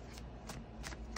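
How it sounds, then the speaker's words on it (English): A deck of tarot cards being shuffled up close, three or four quick riffling bursts in a short run with no talk over them. "do you guys like to see the shuffle?"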